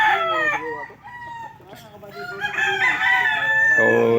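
Gamefowl roosters at a game farm crow repeatedly and loudly nearby, several overlapping cock-a-doodle-doo calls with some clucking in between.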